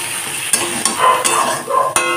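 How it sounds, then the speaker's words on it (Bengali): Vegetables spiced with salt, sugar, turmeric, chili powder and cumin powder fry in a pan for a vegetarian chorchori: a steady close sizzle broken by four or five sharp spatula scrapes and clacks. "এখন সবজিটাকে কষিয়ে নেব।"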